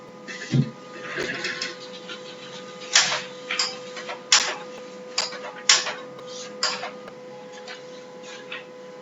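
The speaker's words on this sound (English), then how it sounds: "Just I am going to use the calculator." Calculator buttons being pressed while working a DC generator numerical: a series of crisp, close plastic key taps in an uneven rhythm over a steady low electrical hum.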